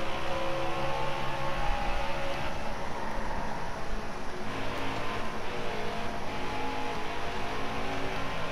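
A NASCAR race car engine in the NASCAR Heat 4 video game drones loudly and steadily at high revs, a continuous close roar with little change throughout.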